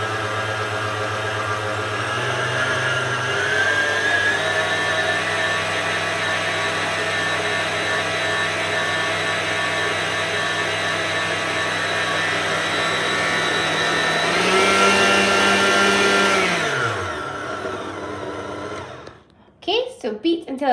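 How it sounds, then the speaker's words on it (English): An electric hand mixer beating butter and sugar for shortbread, a steady high whirring drone held for long stretches, rising briefly in pitch before winding down and stopping, followed by a few clicks. "we're going to beat this butter and the sugar together until they are smooth"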